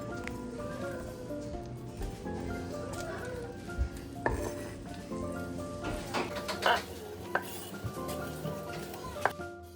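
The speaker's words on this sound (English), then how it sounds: "With a wooden spoon, we're going to saute this for about 2 minutes, 3 minutes, just to get everything softened" Aromatics sauté in grapeseed oil in a pot, stirred with a wooden spoon: faint sizzle under soft clinks and scraping knocks of spoon against cookware, with sporadic sharper taps, quiet and close.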